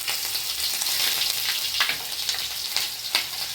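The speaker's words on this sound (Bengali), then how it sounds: "আদা বাটা দিলে খুব ছেটে" Ginger paste hits hot oil in a pan while cooking pumpkin-stem dal, a bright steady sizzle broken by sharp crackling spatters and brief stirring scrapes, close and loud.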